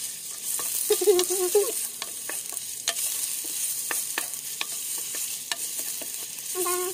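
Sliced ginger sizzles in hot oil in a pan as the first step of ginataang kuhol, with steady frying crackle and light scraping taps from stirring, close and moderately loud, no talk.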